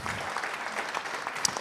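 Applause from an audience at a 24 Heures du Mans press conference fills the room, a steady dense patter of many hands with no voices over it.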